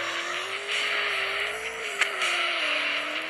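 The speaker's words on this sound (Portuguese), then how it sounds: "E se você apertar aqui de novo, aí vai ficar drift" A car drifts in a mobile racing video game, with a steady, continuous engine whine and a hissing tire screech held throughout, plus one brief sharp click near the middle.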